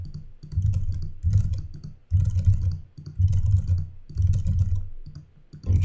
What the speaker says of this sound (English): We should be able to just keep typing messages in here.